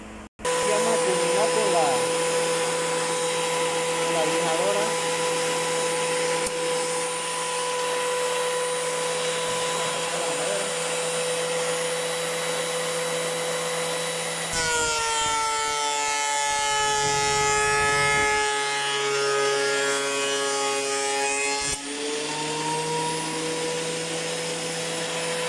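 Electric wood planer smoothing a damp wooden piece, a steady loud whining motor drone that shifts pitch midway as the blade bites, running throughout with no voices.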